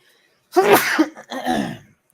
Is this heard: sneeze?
yes